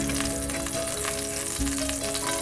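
Oil heats in a frying pan for loitta shutki bhorta, giving a continuous close crackling sizzle with faint tonal hum and no talk.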